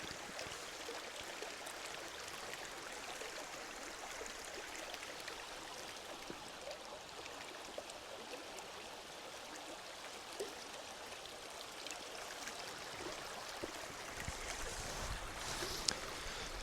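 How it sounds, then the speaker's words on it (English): Mountain river in the Scottish Highlands in February, a steady, even rush of flowing water heard continuously at moderate distance, fairly faint and without voices. "Now to navigate crossing back across the river for the camera."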